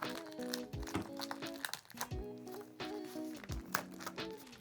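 Plastic packaging crinkles and crackles up close while a Varmilo mechanical keyboard with Cherry MX Red switches is unboxed, irregular rustling bursts with a faint tonal hum beneath.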